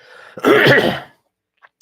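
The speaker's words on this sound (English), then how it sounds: "Really sorry for clearing my throat all the time." A single harsh throat clearing, close and fairly loud, lasting under a second, then near silence with a faint click.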